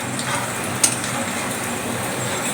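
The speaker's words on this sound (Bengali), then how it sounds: "দেখুন তেলটা এত গরম, মিডিয়াম ফ্লেমে এগুলো সুন্দর ভাজা হয়ে যাচ্ছে।" Garlic frying in very hot oil over a medium flame, a dense continuous sizzle and crackle close up, with one brief sharp pop partway through.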